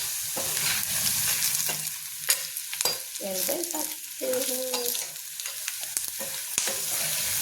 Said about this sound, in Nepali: अब मैले गुन्द्रुक हालेँ है साथी।